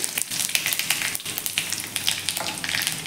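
Mustard seeds, cumin, curry leaves and asafoetida crackle and sizzle in hot oil for a tempering, a dense, close, steady frying hiss with quick popping bursts and no talk.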